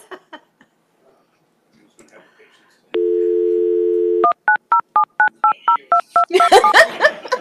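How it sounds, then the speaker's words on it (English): A phone placing an outgoing call during a city council meeting plays a steady dial tone, then a quick run of about a dozen DTMF keypad beeps, followed by people talking and laughing. "He just tried calling my cell phone at the same time I'm calling out"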